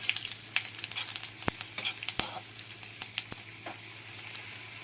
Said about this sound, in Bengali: সব দিয়ে কয়েক সেকেন্ড ভাজা ভাজা করব।